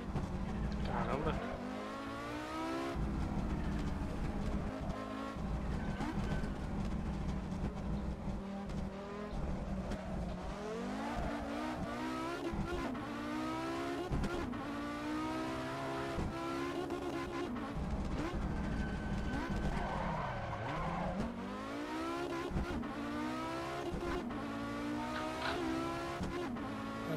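A car engine in a racing video game revs up and down repeatedly, with rising and falling pitch sweeps and brief tire squeals, while people talk over it throughout.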